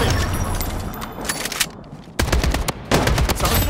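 Loud bursts of automatic gunfire from the Blood Strike shooter game crackle in rapid volleys, broken by a brief lull before more shots resume, dense and close throughout.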